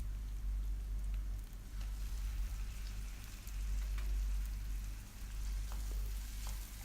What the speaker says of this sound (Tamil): தக்காளியை சேர்த்துட்டு நல்லா வதக்கிக்கோங்க